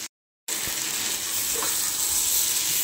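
Potatoes and spices for aloo dum sizzle steadily in a hot pan, a close, continuous frying hiss after a brief moment of silence at the start.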